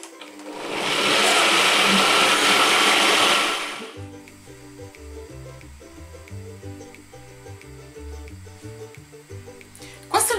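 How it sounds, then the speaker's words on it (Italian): Food processor blending aubergine sauce with grated pecorino: a loud steady whirring blend runs for about three seconds and then stops, followed by a person talking. "Chiudiamo, agganciamo e frulliamo tutto."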